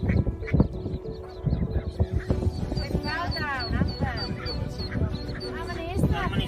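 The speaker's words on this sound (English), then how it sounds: "Look at these happy ducklings totter over to their mama duck." Ducklings and a mother duck call outdoors, with rapid high peeping and quacks in repeated bursts, mixed with clattering knocks and other background noise.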